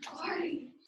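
A single short burst of breathy noise, a quick sneeze heard up close, lasting under a second.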